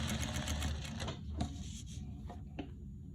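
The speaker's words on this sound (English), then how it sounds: "Then I'm going to turn mine and sew right back on that line." A sewing machine stitches back along a seam on a crossbody bag, a steady close mechanical whir with a few brief starts and stops over roughly three seconds.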